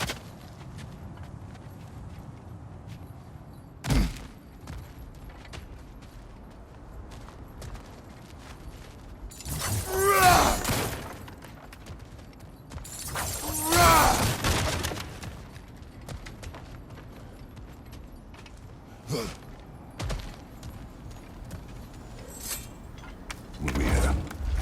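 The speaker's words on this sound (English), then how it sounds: "back to smashing through things for fun and profit." Objects smashing apart in God of War Ragnarök, heard as two loud crashing bursts with debris and a few sharper impacts scattered around them, set against a low game ambience.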